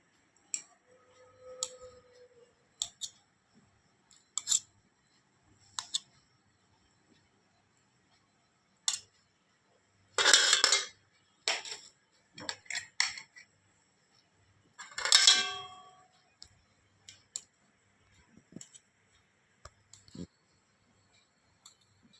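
A knife slices through steamed bottle gourd muthiya on a board, producing sparse, quiet taps and clicks and a couple of louder scraping cuts in otherwise near silence.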